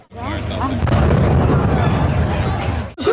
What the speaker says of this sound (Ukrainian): Просто під час зйомки лунає новий вибух.